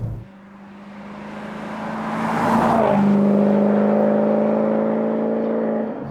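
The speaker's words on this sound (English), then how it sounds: "It has what I think many would agree is one of the greatest soundtracks of any car ever. And this is the standard exhaust." A Maserati Quattroporte Sport GT S on its standard exhaust revs up from idle, the engine note rising to a loud sustained drone before easing off, heard close with no talking.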